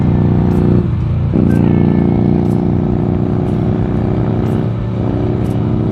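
A Honda Rebel 500 motorcycle accelerating through the gears, heard loud and close: a steady, throaty engine drone whose pitch climbs, drops briefly at each shift and climbs again.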